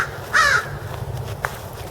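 A crow gives a single loud caw at close range during a snowy winter storm on a Portland street, followed by a fainter, shorter call over a low rumbling background.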